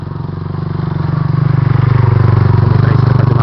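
Motorcycles climb a rough off-road trail near San Carlos, with a loud, close engine chugging in a steady pulsing rhythm that builds as the bikes labour uphill.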